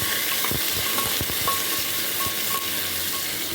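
Vegetables frying in oil inside a pressure cooker sizzle steadily and close up, with intermittent scraping stirs of a spoon against the metal pot throughout.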